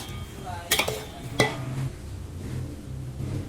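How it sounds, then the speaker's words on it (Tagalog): A spoon scrapes and clanks twice against a large pot of pork kaldereta, about ten kilos with garlic and onion, as it is stirred over a low, steady cooking rumble. "hahaluin ko para magsama-sama yung lasa niya"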